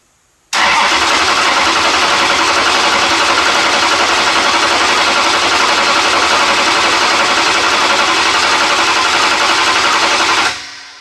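A 426 Hemi engine cranks steadily with throttle wide open and ignition off for a compression test, a loud continuous whirring churn lasting about ten seconds, close and alone, then stopping abruptly.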